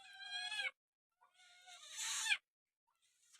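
A cat in an Assam village home gives two drawn-out, plaintive meows, the second longer and rising, close but fairly quiet with silence between them.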